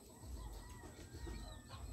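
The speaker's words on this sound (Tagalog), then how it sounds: "Maya ko tagkari daw may mga manok diri." Chickens cluck softly at moderate distance in a rural yard, a steady low murmur of fowl with occasional sharper calls and faint wing sounds over continuous background noise.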